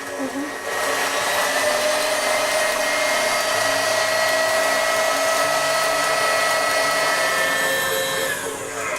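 An electric mixer whisks egg whites and sugar for pavlova, giving a steady, loud, close whirring hum that runs without a break for the whole stretch.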